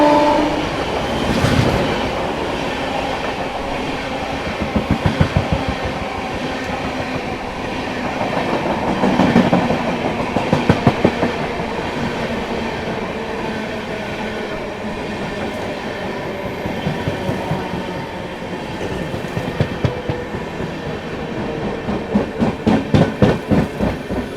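Rewa–Anand Vihar express running at a crossing near Tundla Junction outer, a continuous loud rumble with rhythmic clickety-clack of wheels over rail joints growing denser toward the end.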